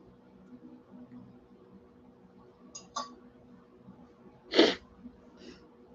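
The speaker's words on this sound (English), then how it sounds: "Oh, I'm sneezing up a storm." A single sharp sneeze bursts out near the end, preceded by a couple of faint sniffs and breaths in an otherwise quiet room.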